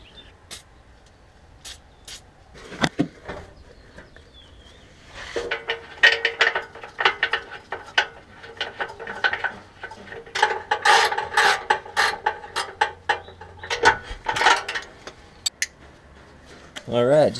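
A ratchet clicks in quick bursts while tightening bolts on the stock exhaust of a Subaru WRX, close and sharp, with pauses and a faint hiss of spray between runs of ratcheting.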